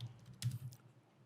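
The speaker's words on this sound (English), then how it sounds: "I'm just going to go and I will type in here" A few quick keystrokes on a computer keyboard, one small burst of taps in a quiet room, close and fairly faint, no voices.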